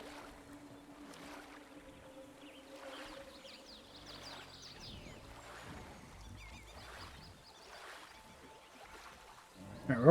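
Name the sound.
kayak moving through water in a video game park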